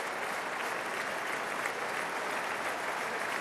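A stadium crowd at the 2022 Six Nations rugby match between Wales and Italy holds a minute of applause in support of Ukraine. A distant, even roar of thousands of hands clapping continues unbroken at a steady level.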